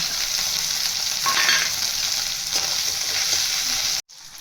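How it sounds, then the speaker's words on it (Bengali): Tomato and grated ginger land on curry leaves in hot oil for sambar, a loud close sizzle with stirring scrapes that cuts off abruptly near the end. "এবার আমি কারিয়া পাতা আর ওইগুলোকে ওপরে উঠিয়ে টমেটোটা দিয়ে দেবো"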